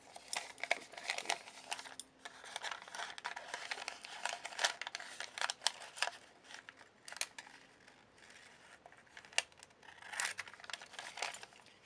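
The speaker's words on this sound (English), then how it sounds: "And then I can cut these 3 lines and the other 3." Repeated crisp snips and crinkling of folded wrapping paper being cut with scissors, close by, in irregular bursts for several seconds with no talking.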